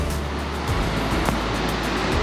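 Ocean waves breaking on a shore, a continuous, close wash of surf that swells slightly partway through, with no talk.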